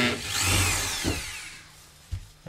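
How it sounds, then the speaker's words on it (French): A power drill bores into an aerated concrete wall while stone-effect wall cladding is being fixed, a close grinding whir lasting about two seconds, then a couple of short knocks as it stops. "Voilà, c'est bon, tu peux percer."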